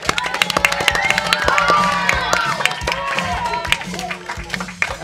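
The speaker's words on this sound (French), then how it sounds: "Vous pouvez vous applaudir." Children from a school radio club applaud at the end of their show, with steady close clapping, some cheering and shouts mixed in, lasting several seconds.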